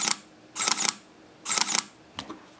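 A Sony A7R II mirrorless camera fires its mechanical shutter without the electronic front curtain, giving crisp, close double-clack shots at a steady pace, then a fainter click at the end.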